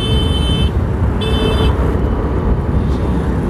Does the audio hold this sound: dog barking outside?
no